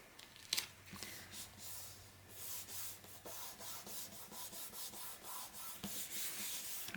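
Tyvek is rubbed down onto a chipboard album cover over the fold, giving soft, quiet, repeated swishing strokes in a steady rhythm, with a sharper rustle near the start.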